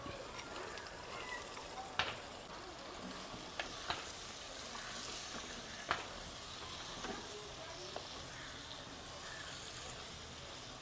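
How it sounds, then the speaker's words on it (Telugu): Peeled field beans fry in masala with a quiet continuous sizzle, broken by scattered clicks and scrapes of stirring at irregular moments, close by. "ఈ మాత్రం పితికి పప్పునన్నింటినీ మసాలాలో వేసుకొని బాగా వేయించుకోవాలి"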